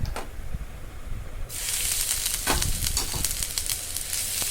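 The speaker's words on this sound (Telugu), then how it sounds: "మనం తురుము పెట్టుకున్న పచ్చి పసుపు ముద్ద వేసుకొని కొంచెం వేయించుకోవాలి" Grated raw turmeric paste hits hot oil for a pickle, a quiet stir giving way to a sudden loud, steady sizzle, with spatula scrapes stirring the paste close by.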